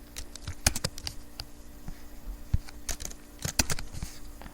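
Code being typed on a computer keyboard, a close, irregular run of crisp key clicks, some single taps and some quick bursts, with brief pauses between bursts and no talking.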